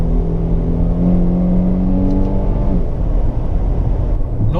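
Infiniti Q70 luxury sedan engine revving smoothly through downshifts, a strong steady harmonic drone that holds, then falls away into a low rumble, with no talking.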